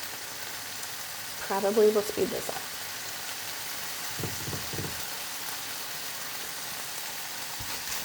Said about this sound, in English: Or like the bacon's done frying.